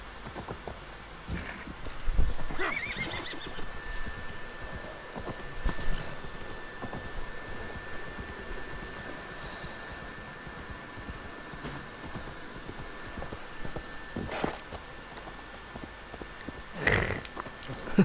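Video game horse: hooves clip-clop over a steady ambient bed, with a couple of louder snorts or whinnies near the start and end, moderately close.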